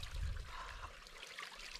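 Small stream of water trickling and gurgling along a fell route, a close, soft continuous flow with a faint low rumble at the start.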